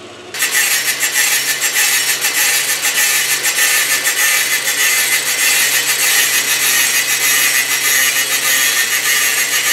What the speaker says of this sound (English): I'm just gonna slice through it and cut off the outer edge